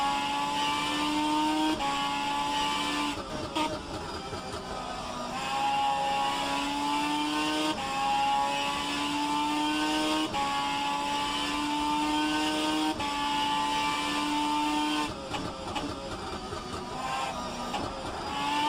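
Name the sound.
race car engine in video game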